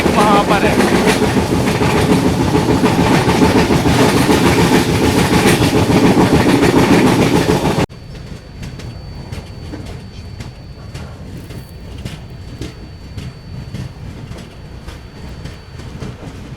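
The Mandovi Express running from Mumbai to Goa, with a loud, steady rumble and rhythmic wheel clatter that drops abruptly to a quieter, more distant rolling clack with a faint steady whine.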